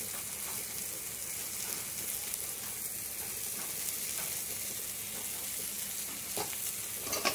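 A prawn curry sizzles steadily in the pan, a spoon stirring through it with soft scraping strokes and brief clinks against the metal.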